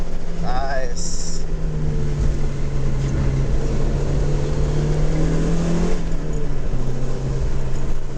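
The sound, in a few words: Mazda Miata accelerating through canyon road gears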